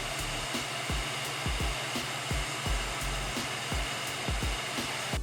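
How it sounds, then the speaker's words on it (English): Master Appliance HG Series heat gun blowing hot air for heat-shrinking tubing onto wire, a steady close whooshing roar with soft, regular low thumps running underneath throughout. "place the heat gun onto your table, rotate it upwards, and then turn on the hot air"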